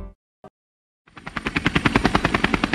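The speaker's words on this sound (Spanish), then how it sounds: "el más completo y avanzado servicio de ambulancia aérea en helicóptero en nuestro país" An air ambulance helicopter flies close by, with a loud, rapid rotor thudding that builds quickly after a couple of brief knocks and a short silence.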